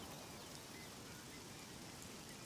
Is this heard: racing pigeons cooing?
no